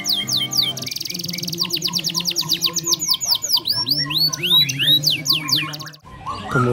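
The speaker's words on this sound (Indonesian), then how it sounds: "tunggu hingga burung bunyi di lokasi terlebih dahulu" Rapid, varied songbird chirps and whistled trills pour out continuously, bright and close, with a brief pause near the end.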